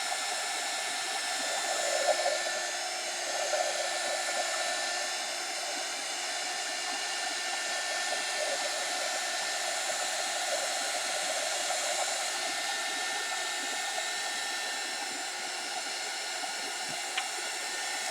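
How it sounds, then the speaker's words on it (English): A heat gun blows steadily while drying a fresh coat on a metallic journal cover, a continuous airy roar with no break, alone and fairly close. "all I do is I go along with my heat gun and I dry it as best I can"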